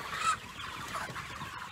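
Chickens cluck together inside a farm chicken house, a dense continuous flock chatter at moderate distance with one louder call early on.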